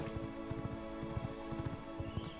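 Rhythmic clip-clop of a horse galloping in the video game V Rising, quick hoofbeats repeating steadily over a faint background hum.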